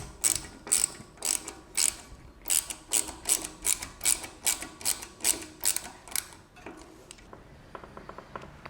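A torque wrench clicks again and again while tightening the wheel hubs on a monster quad, a fast run of sharp ratcheting clicks in bursts, close and crisp, with no talk.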